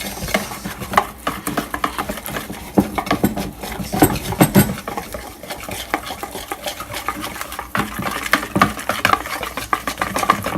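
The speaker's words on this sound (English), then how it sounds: "just continuously whisk it until there are no more lumps" Thick fish-and-chips batter is whisked in a bowl, making continuous close, loud wet slapping and rapid scraping strokes without pause.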